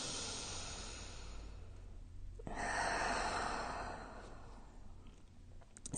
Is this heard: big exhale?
yes